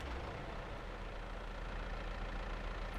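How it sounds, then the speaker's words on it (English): Small tractor engine idling in a farming video game mod, a steady low continuous rumble holding an even level throughout, with no voices. "Sounds nice for a little tractor."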